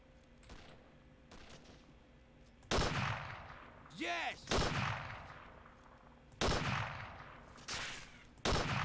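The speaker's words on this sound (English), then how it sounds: "So somebody is shooting at the tank." Gunfire in the Ghost Recon game mod The Great Patriotic War, with a tank under fire: several loud broadband bursts of shots spaced a second or two apart over a low rumbling backdrop, plus one brief whistling, rising effect in between.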